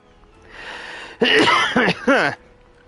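A man coughs hard to clear phlegm from his throat, giving three loud, harsh bursts close to the mic over a faint background hum.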